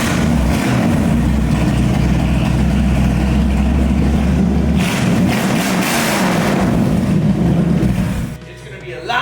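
A 1965 Ford Mustang's 289 V8 engine idles loudly with a deep, lumpy rumble that shifts partway through before cutting off near the end.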